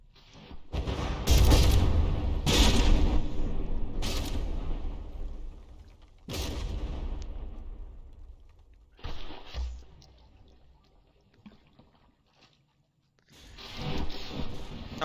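Battleship front turret firing in a naval battle video game: several loud, booming blasts with long rumbling tails, spaced a few seconds apart, then quieter stretches and one last burst near the end.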